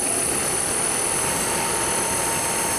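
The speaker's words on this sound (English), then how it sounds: "I put an 8-volt battery on it, and she spins." An old car heater blower motor spins steadily on an 8-volt battery during a heater box rebuild, giving a constant, close whirring hum with a broad rushing airflow and no variation in pitch.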